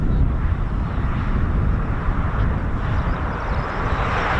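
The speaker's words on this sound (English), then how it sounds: "Reach 567 KC-135R of the 155th." Boeing KC-135R Stratotanker of the 155th Air National Guard roaring steadily at RAF Mildenhall, a loud, continuous broadband jet engine rumble with wind buffeting, no pauses throughout.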